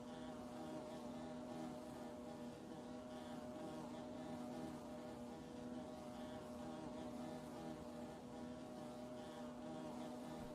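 Bees buzzing in the video game Hollow Knight, a steady droning hum with no music behind it, continuous and even throughout, fairly faint but unbroken.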